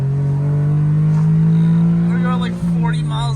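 A tiny Honda's small engine held high near its red line, a strained steady drone that dips briefly before carrying on, with a person talking over it.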